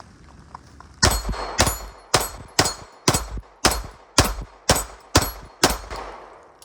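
Gunshots from an S&W Equalizer pistol: ten sharp, loud reports in a steady rhythm about half a second apart, each ringing out briefly, with no talk.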